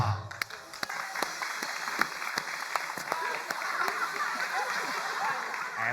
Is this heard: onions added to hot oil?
no